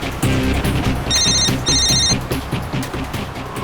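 A phone rings while calling a taxi driver in a TV crime drama: two short electronic ringtone bursts sound over loud, rhythmic dramatic background music.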